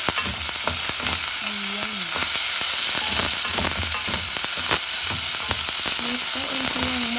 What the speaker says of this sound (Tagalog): Ginisa ko ang chicken sa may sibuyas.